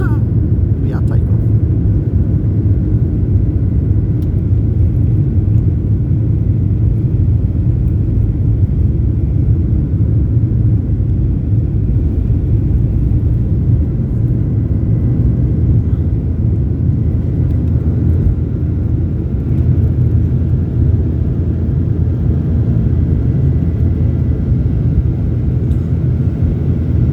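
An airplane takes off from Innsbruck Airport in Austria, its engines giving a loud, steady low roar and rumble that holds throughout without pause.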